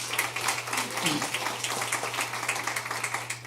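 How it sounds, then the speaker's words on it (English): An audience at a planetarium association's business meeting applauds steadily, a dense wash of clapping that holds for several seconds over a constant low hum. "so round of applause"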